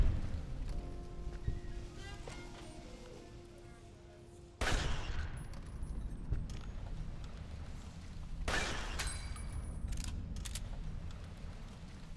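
A gunshot headshot in Fallout New Vegas lands as two sharp, loud reports several seconds apart over a steady game background hum.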